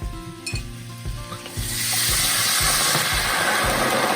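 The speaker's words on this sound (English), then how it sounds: "at this point, we're gonna hit our white wine into the pan" White wine hitting a hot pan of shallots, garlic and butter, a gentle rhythmic stirring sizzle that erupts into a loud, continuous hissing steam-sizzle once the liquid goes in.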